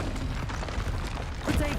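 A Confringo blasting spell goes off in Hogwarts Legacy as a short, muffled boom that swells near the end of a brief, noisy moment.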